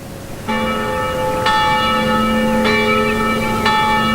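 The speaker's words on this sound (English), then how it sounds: "The bell in the nearby church began to toll." Church bell tolling nearby, several strong rhythmic strokes roughly a second apart, each ringing on with a long sustained metallic hum between strikes, loud and clear with no voices.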